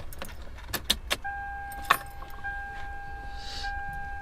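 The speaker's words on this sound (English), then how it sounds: "Let me go ahead and turn the car on so you guys can see how it looks" A Toyota Celica being started with its keys: a few jangling, clicking key strikes up close, followed by steady electronic tones as the car powers on in a quiet interior.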